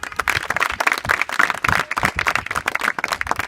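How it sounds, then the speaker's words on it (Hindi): Schoolgirls at a girls' inter college education program clap together in a lively, uneven burst of applause, many hands close and loud with dense overlapping claps throughout. "तो पहले तो ताली बजाओ जिन्होंने देखा है।"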